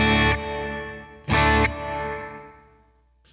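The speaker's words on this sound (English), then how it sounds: "it is a reverb that actually comes in slowly after that you have played your note" Two loud distorted guitar chords through a slow-blooming reverb effect on a Line 6 Helix, each followed by a long reverb tail that swells and lingers before fading out slowly.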